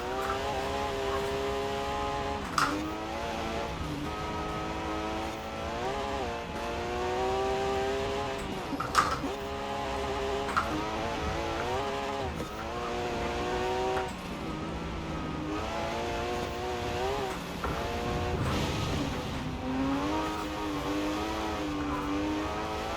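Car engine racing hard in Forza Horizon 4 on a trail with water, revving up and down through repeated gear changes, loud and continuous throughout.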